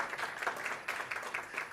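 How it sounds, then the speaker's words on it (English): An audience at a teachers' and practitioners' research colloquium gives a short round of applause, a dense, even patter of many hands clapping at moderate distance. "Let us give him a round of applause."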